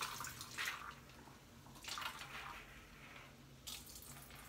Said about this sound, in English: I'm just gonna put some water and then gonna take the water out.